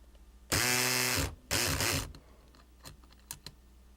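A lock pick tool with its blade trapped short of full movement gives two loud, rough buzzing bursts of about a second each, followed by a few faint clicks.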